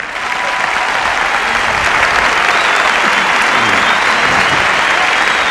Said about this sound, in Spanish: les pido un fuerte aplauso para recibirla